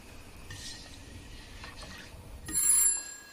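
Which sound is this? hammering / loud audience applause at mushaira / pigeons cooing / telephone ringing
telephone ringing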